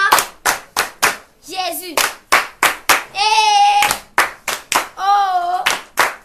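A church congregation claps hands in a steady, loud rhythm of sharp beats, with singing and chanting voices rising between and over the claps.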